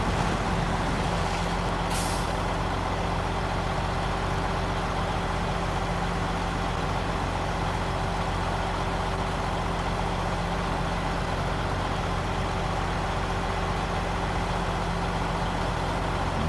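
A heavy truck in the off-road game SnowRunner spinning its wheels: a constant loud engine drone with a steady low hum, a brief hiss near the start, then an unbroken strain with no talking.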